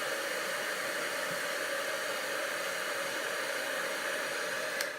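A heat gun melting gold embossing powder on a wedding card makes a constant, close blowing hiss that runs steadily throughout with no talking.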